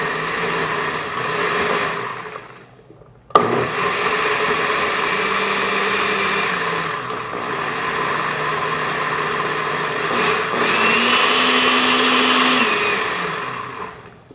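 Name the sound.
blender mixing smoothie ingredients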